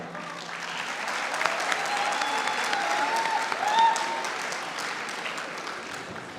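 Sustained applause from an audience at a poetry recital (mushaira), welcoming the poet Hafeez Tahir Ghotia to the stage; dense steady clapping throughout with a faint voice briefly audible.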